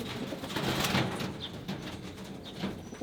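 Racing pigeons coo softly inside a loft over steady broadband background noise, with a few low murmuring calls spread across the stretch.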